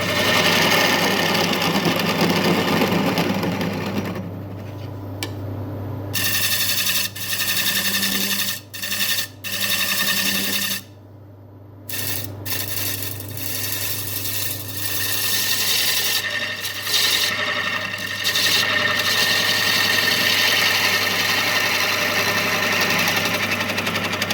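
A wood lathe faces off a White Mallee burl bowl, with a steady motor hum under a loud, continuous scraping and rasping cut that breaks off briefly several times.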